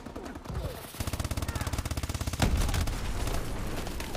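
Rapid automatic gunfire from a weapon in a first-person shooter video game, a fast even burst of loud shots followed by a heavier boom and continuing rattle of fire.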